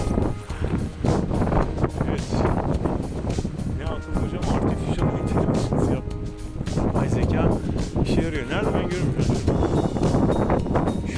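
Steady wind buffeting a microphone while flying a DJI Mavic 2 Pro drone, a loud broadband rumble that runs nearly the whole time, with a voice speaking over it.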